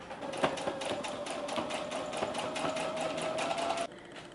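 A sewing machine stitches fabric in a quick, even run of mechanical clicks and whirring for a few seconds, then stops abruptly, leaving only faint background hum; the sound is close but moderately quiet.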